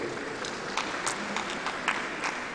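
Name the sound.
audience applause at council meeting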